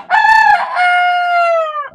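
A single loud, close Bresse rooster crow, a clear drawn-out call lasting about two seconds, with nothing else around it.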